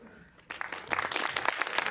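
A live audience at a film stage talk breaks into applause, starting suddenly after a quiet moment and swelling into a steady, dense clapping that continues to the end.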